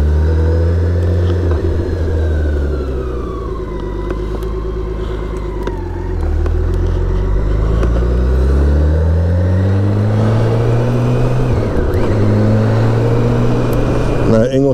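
A BMW K1600 GTL touring motorcycle rides through Ingolstadt at night, its engine a steady loud rumble with smooth rising and falling revs through gear changes, close and continuous throughout.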